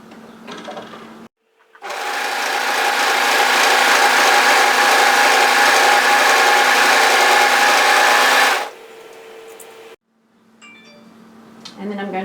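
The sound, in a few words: overlocker sewing a cardigan hem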